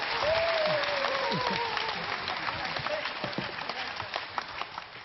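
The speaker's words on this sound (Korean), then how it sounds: "박문호 박사님께 다시 한번 큰 박수 부탁드리겠습니다." An audience applauds after a lecture by Dr. Park Mun-ho at a KBS Gwangju academy event, dense clapping strongest at first and thinning toward the end, with a voice briefly heard above it.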